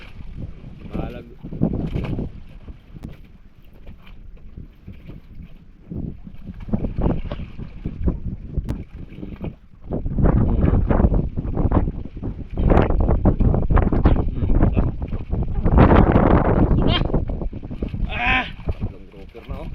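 Wind buffets the microphone aboard a small fishing boat at sea, a rough roaring gust rising and falling throughout, with people talking over it.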